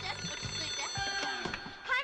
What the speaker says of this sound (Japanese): もしまた電話かかってきても。 絶対に出るなよ。